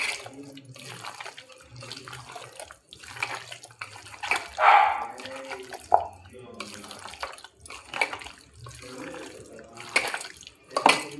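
Food gets washed by hand in a pan of water, with splashing and sloshing bursts that repeat at close range, mixed with speech throughout.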